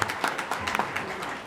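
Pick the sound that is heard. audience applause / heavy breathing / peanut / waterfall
audience applause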